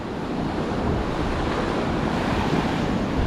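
Surf rolls steadily onto Miramar Beach, Florida, under strong wind buffeting the microphone, making a constant loud roar with no breaks or voices on a red flag day.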